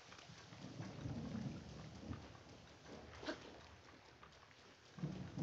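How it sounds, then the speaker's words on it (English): Steady rain patters softly with low rumbles of thunder rolling in the background, fairly quiet and distant, in the video game The Legend of Zelda: Breath of the Wild. "Oh my god, this rain's annoying."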